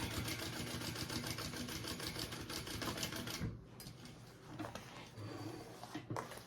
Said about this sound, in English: I think I need to check my bobbin after this stitch.